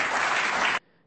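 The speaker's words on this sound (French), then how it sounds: "c'est sous un tonnerre d'applaudissements" Audience applause bursting out loudly as a dense, close wash of clapping that cuts off abruptly after under a second.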